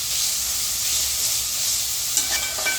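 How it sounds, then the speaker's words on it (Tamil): Chopped tomatoes sautéing in a hot pan for South Indian vegetable biryani, a loud, steady sizzle that runs unbroken, with a few light stirring clinks near the end. "தக்காளி நல்லா வதங்கட்டும்."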